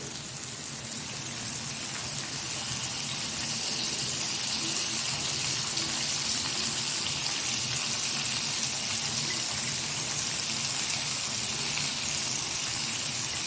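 Bhola fish frying on a tawa in mustard oil with ghee underneath, giving off a steady, dense sizzle that holds evenly from start to finish with no talking over it.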